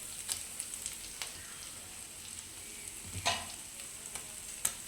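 Chicken fry cooking in a pan with chili powder, a soft, steady sizzle with scattered scraping clicks of a spoon stirring, and one louder scrape near the end.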